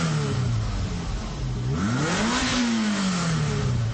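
A 1986 Ferrari's 3.2-litre quad-cam V8 with 32 valves revs loudly nearby, its pitch dipping and then climbing and settling as the throttle opens, with a mechanical rasp running through it.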